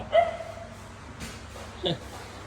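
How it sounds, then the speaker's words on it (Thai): A dog gives a couple of short barks or yips, close by, separated by a pause, over faint background noise. "หมามันเห่า"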